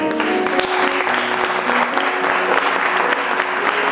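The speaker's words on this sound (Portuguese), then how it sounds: "A igreja pode dar uma salva de palmas." Church congregation applauding at a pearl wedding anniversary celebration, loud continuous clapping from many hands filling the room throughout, with a faint murmur of voices beneath.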